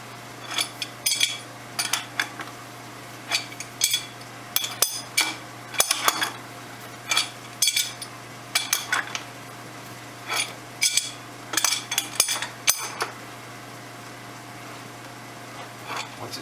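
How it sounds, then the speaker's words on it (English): A plastic oil filter cover going back onto the filter housing of a 2006 Ford F350, heard as a long run of short, close clicks, taps and scrapes in irregular bursts, with quiet gaps between handling sounds. "I'm going to put the cover back on."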